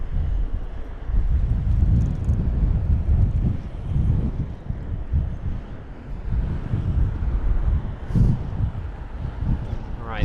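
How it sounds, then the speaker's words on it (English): Heavy storm wind gusting at an airport during Storm Kathleen, a loud continuous low roar and buffeting against the microphone that swells and eases throughout, with no talk heard. "Oh, the wind is getting heavy now."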